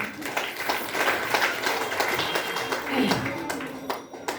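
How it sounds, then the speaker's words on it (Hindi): Loud applause fills a gathering, dense clapping from many hands that swells and fades over several seconds, with voices talking underneath. "जनो डरवा के लिए जोरदार ताली देनी चाहिए।"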